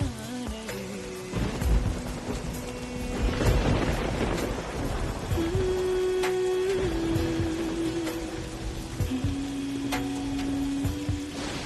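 Rain falls steadily with thunder rumbling, a loud continuous wash of rainfall with a deep roll building in the first few seconds, while a steady sustained musical tone runs underneath.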